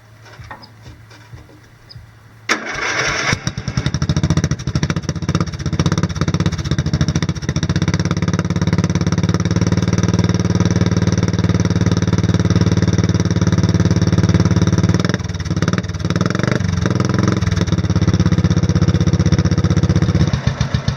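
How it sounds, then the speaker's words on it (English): A Murray engine cold-starts with a little choke on the first key turn, catching abruptly and settling into a loud, steady, rumbling idle that runs close and unbroken, with a few slight stumbles near the end. "Wouldn't you know it, she fired right up. A little bit of choke, first key turn."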